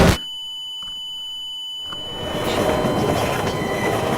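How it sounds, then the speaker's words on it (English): A train strikes the player in Half-Life 2 Update: a sharp impact burst, then a steady electronic tone and thin whine, giving way to a loud, rising rumble of rail noise that fills the rest of the moment. "that's what happens if you get hit by the train in Half-Life 2 Update"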